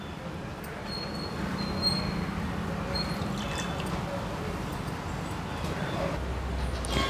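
Grated sweet potato is lifted out of a bowl of water, giving faint close trickles and drips over quiet room background.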